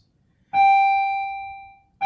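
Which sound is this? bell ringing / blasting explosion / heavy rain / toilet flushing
bell ringing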